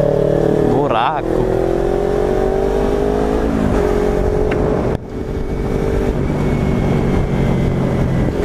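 Kawasaki Ninja 300 motorcycle running on poor-quality gasoline, engine droning loudly and close with a rising rev near the start and a sharp pop or drop around the middle, while a rider speaks over it.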